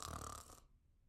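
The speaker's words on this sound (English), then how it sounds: "When Santa arrives, he's tucked in. Hear him snore." A single loud snore from Santa in a children's Christmas storybook reading, lasting about half a second before trailing off into quiet.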